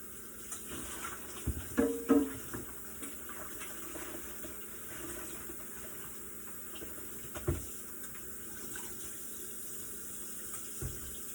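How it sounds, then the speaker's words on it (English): Kitchen sink tap running steadily while hands are washed, a soft continuous stream of water with a few louder splashes near the start and another splash later, heard close up with no talk. "Wash my hands real quick."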